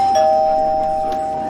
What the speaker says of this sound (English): The doorbell just rang.